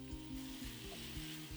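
A corn and beans githeri mixture simmers and sizzles in a single pot, giving a steady close frying hiss with faint stirring scrapes throughout.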